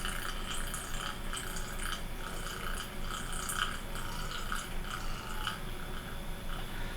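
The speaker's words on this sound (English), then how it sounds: "Now you stir it. Make sure you get everything mixed in well." A Unicorn Farts e-juice mixture being stirred in a container gives soft, repeated liquid clinks and small drips, close and quiet, with a few light glassy taps scattered through.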